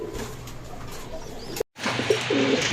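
Red gola fancy pigeons coo repeatedly at a pigeon farm, with soft rolling calls rising over a steady background hum and a brief gap of silence midway.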